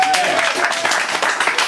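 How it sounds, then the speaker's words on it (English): Audience at a poetry reading applauding after a set, moderately loud continuous clapping, with a brief voice at the start. "More applause for Angela."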